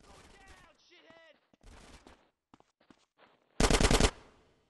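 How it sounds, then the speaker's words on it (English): A short, loud burst of rapid automatic gunfire lays down suppressing fire in GTA San Andreas, coming right after a stretch of shouted talk and background noise. "Get some suppressing fire in there!"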